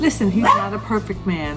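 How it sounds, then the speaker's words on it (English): A dog barks and yips close by, overlapping with a man's speech for the short stretch. "that's my dog telling me it's time to stop"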